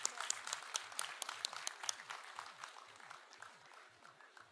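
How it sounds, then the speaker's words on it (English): Applause for dignitaries at a university convocation ceremony, a crowd clapping steadily in a large hall, moderately distant and fading slightly toward the end. "A huge round of applause for the dignitaries,"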